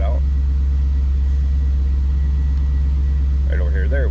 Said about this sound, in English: A little aftermarket exhaust note, sounds like.